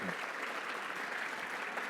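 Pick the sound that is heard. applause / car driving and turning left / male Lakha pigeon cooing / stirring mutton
applause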